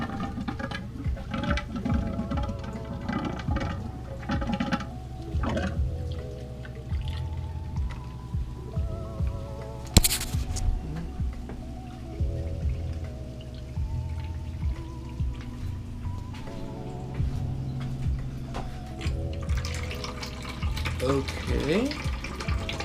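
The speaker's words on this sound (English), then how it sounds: "The water's passing through and it's not leaking" Water runs through an RV outdoor shower line, giving a steady patter and trickle with scattered drips and a sharp clunk partway through, while faint voices murmur in the background.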